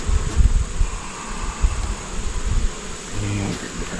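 Honey bees hum and buzz continuously around an open apiary hive while a frame is lifted and checked, a dense close drone with light handling noise and no clear speech.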